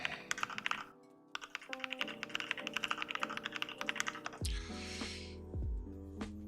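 Fast, uneven typing on a computer keyboard while writing notes in a Markdown app, a dense run of close, crisp key taps with a few heavier thunks, over a soft background hum and no talk.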